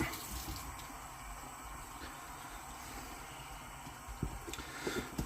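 Water runs steadily from a kitchen tap while hands are washed, a continuous hiss with a few small splashes and clinks near the end.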